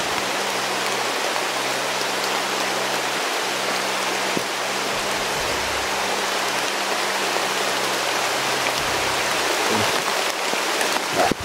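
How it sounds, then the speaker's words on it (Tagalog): Very heavy rain pours down in a dense, constant hiss, loud and unbroken, with a faint low hum beneath and a few brief knocks. "Sobrang lakas ng ulan tol."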